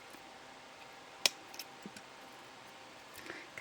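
Jewellery wire snipped with wire cutters, one sharp, close click followed by a few faint ticks and handling sounds in a quiet room.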